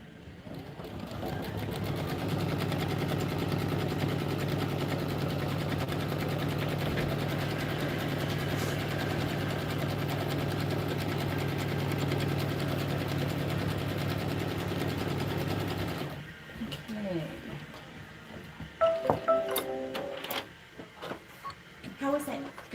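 A quilting sewing machine stitches embroidered quilt blocks together with a loud, steady mechanical whir for most of the stretch, then stops, leaving quiet handling clicks and small knocks near the end.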